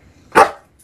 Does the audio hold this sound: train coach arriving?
no